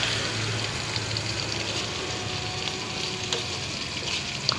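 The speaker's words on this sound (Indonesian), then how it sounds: "Tumis-tumis sampai bumbunya meresap." Fresh squid stir-fried with spices for sambal, giving a steady, close sizzle with faint scraping of stirring and no voices.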